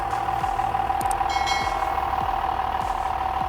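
A John Deere 6610 tractor with a 114 hp engine runs steadily nearby, a constant droning hum with a regular low pulse and a few faint high beeps.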